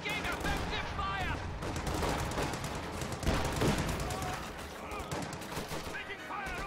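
Dense gunfire from a military team video game: a continuous barrage of overlapping shots and bursts with a few heavier thumps, steady and fairly loud, under faint voices.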